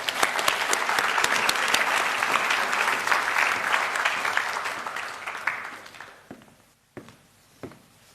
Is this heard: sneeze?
no